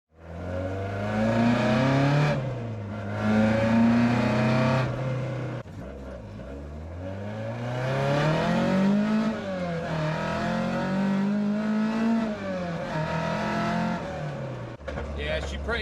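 A car running a newly installed ME100 ECU revs repeatedly, its engine note rising and falling in loud, close sweeps with brief dips between pulls.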